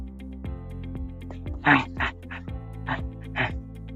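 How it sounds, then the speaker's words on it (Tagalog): A pet dog on an outdoor walk through calamansi trees gives several short barks spread across a few seconds, with a steady hum and light background noise underneath. "kasama din pala namin yung aso ko si Dylan yan"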